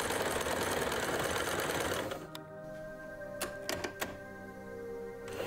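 A used sewing machine runs through its stitches, a dense steady mechanical whir for about two seconds, then settles into a quieter hum with a few sharp clicks as stitching and reverse stitch are checked.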